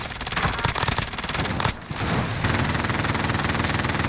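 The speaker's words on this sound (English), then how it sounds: "Enemy sentry gun active." An enemy sentry gun turret in a shooter video game fires rapid, continuous automatic bursts at close range, loud and dense, with a brief pause before the rattling stream of shots resumes.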